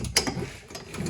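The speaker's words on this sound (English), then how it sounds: "Trying to not break the ratchet." A ratchet wrench turning bolts out on an overland rig, a short burst of quick metallic clicks close by, with no talking.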